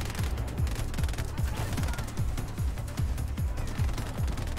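Laser turrets firing in Just Cause 4, a steady run of sharp repeated zaps and bursts, fairly loud and dense, with mechanical clatter mixed in and no voice over them.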